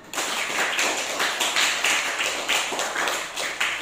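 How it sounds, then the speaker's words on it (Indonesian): A class of students claps together in a classroom, giving a brisk round of quick, overlapping claps with slight surges in intensity before it trails off. "Tepuk tangan"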